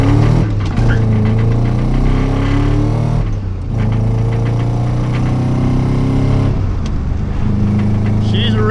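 A 1UZ V8 swapped into a Nissan 240SX rumbles loud and close, its exhaust note climbing and dropping through several revs with brief dips, a steady deep drone filling the space throughout.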